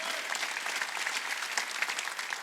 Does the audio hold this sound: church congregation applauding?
yes